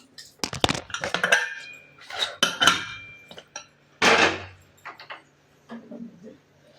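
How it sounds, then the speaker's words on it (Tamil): Metal lid being put onto a pressure cooker in a home kitchen while cooking podalangai kootu, with several clanking and clinking metallic knocks and scrapes and someone speaking in between. "இப்போ குக்கரில் மூடி போட்டு விசில் உள்ள 3 விசில் விட்டு எடுத்துக்கலாம்."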